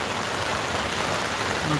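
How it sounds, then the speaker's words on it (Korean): Heavy rain pours down in a dense, continuous hiss, steady and enveloping throughout, with no other distinct sounds standing out. "또 갑자기 빗줄기가 엄청 굵어졌어요. 빗소리가 또 다시 퍼졌네요."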